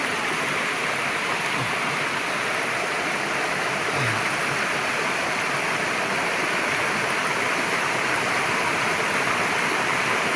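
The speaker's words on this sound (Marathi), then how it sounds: "मस्तपैकी चांगला धबधबा आहे" Small waterfall and stream in a village forest, a steady broadband rush of falling water running continuously and evenly throughout, fairly loud and close, with no voices.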